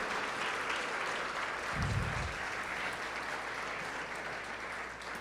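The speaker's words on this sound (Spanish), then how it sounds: "Dele un fuerte aplauso a Jesús" Steady applause from a church congregation during a Spanish-language sermon, continuous clapping at moderate volume with a brief low thump partway through.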